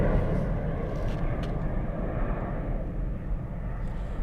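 A Swiss airliner lines up on the runway at Zurich airport with a steady, heavy jet-engine rumble that holds at an even level throughout, heard from a distance with no voices.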